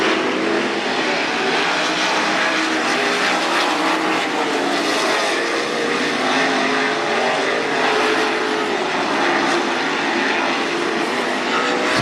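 305 sprint cars race on the dirt oval at Attica Raceway Park during a heat race, a loud, dense roar of engines that holds steady without a break.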